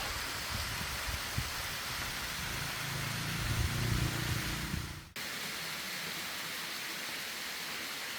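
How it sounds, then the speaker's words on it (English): A waterfall at Hmong Doi Pui Village near Chiang Mai, Thailand, roars as a steady, close wash of broadband noise with a low rumble beneath. The rush dips briefly about two-thirds of the way through and then carries on, with no talking. "There's the waterfall."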